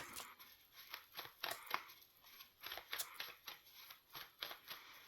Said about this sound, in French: Je vais faire une coupe au niveau du tarot.